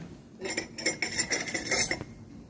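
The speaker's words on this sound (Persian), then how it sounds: "اینم قاشق چنگال ما" Spoon and fork cutlery clinking during a pizza meal, a run of close, light metallic clinks and taps over about two seconds with no talking.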